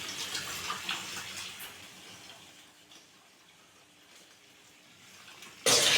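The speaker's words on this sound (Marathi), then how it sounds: "प्रचंड गढूळ पाणी येत आहे" Muddy, contaminated water runs from a tap in a steady, fairly quiet splashing flow that fades gradually and then surges abruptly louder near the end.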